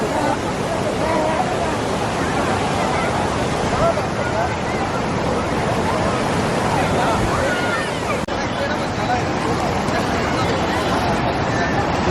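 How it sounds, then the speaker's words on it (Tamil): Water surges forcefully through five open shutters at Veedur Dam near Pondicherry, a dense, continuous roar with wind buffeting the microphone and people talking nearby. "ஃபோர்ஸாக இருக்குது தண்ணி"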